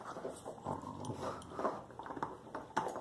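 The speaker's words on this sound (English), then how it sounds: "What you doing, dog? What you doing? You got a bone there?" A dog growls low and intermittently while chewing and playing with a bone, with short snarls and small yips, close and fairly quiet.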